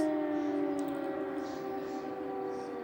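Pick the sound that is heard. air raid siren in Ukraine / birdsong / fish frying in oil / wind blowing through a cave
air raid siren in Ukraine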